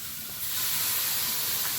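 Water poured into a hot pan of fried potatoes gives a steady, loud hiss of steam with a crackling sizzle that swells after a moment and holds, with no talking.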